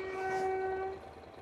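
A train passing through Šiauliai, Lithuania sounds a single steady horn blast of about a second, heard from a moderate distance before it trails off into quiet outdoor ambience.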